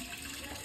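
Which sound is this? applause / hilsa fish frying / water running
water running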